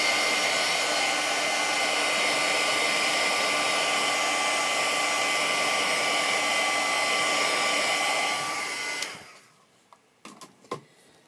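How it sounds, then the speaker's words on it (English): A heat gun blows with a steady, loud whirring hiss for about nine seconds while drying a watercolor pencil drawing of a pear, then cuts off, leaving a few faint clicks and handling noises. "I'm just going to hit it with my heat gun"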